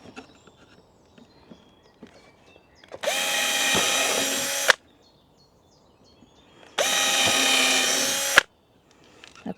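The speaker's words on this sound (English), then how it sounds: "2 holes drilled in there" A power drill bores two holes in a sign at an allotment garden, two separate whirring bursts of about two seconds each, close and loud, with quiet handling noise between them.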